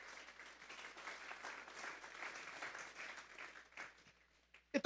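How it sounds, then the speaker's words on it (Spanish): Faint, distant applause in a church during a sermon, a soft sustained patter of many hands that thins out near the end before a couple of sharper knocks. "Vamos a darle un fuerte aplauso pues al Señor"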